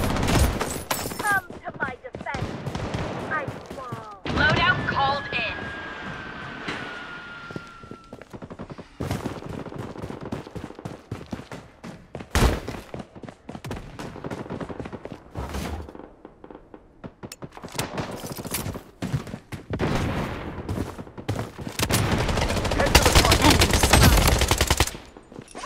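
Gunfire in the Blood Strike video game: sharp bursts of automatic fire and single shots crack in irregular clusters across the whole stretch, some loud and close, with in-game voice lines heard between them.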